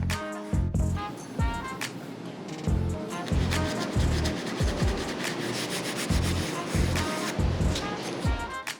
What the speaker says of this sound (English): now that we got these all hit with the gray scuff pad